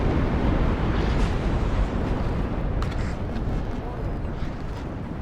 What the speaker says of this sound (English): more artillery.